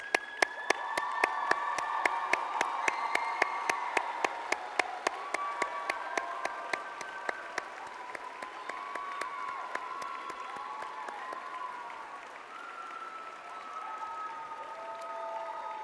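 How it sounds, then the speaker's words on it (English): Graduates at a Carleton University convocation ceremony in Ottawa break into sustained applause with scattered cheers, a large crowd clapping steadily for the full stretch and fading only slightly toward the end. "let's give them that applause"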